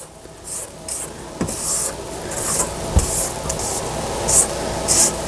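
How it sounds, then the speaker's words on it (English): A spatula scrapes the sides of a mixing bowl of cake batter for a coconut lemon mousse cake, giving repeated soft rasping strokes with a few light knocks against the bowl. "I'm going to scrape down the sides of my bowl."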